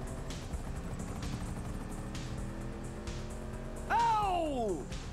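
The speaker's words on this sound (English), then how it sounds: "Lose the enemy chopper" Enemy helicopter in the Grand Theft Auto 5 video game, a steady droning rotor rumble throughout, joined near the end by a loud descending whine sweeping past close by.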